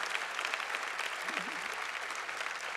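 Steady applause from an audience at an evening award ceremony, dense and continuous throughout, fairly quiet and distant, with a brief voice rising faintly beneath the clapping.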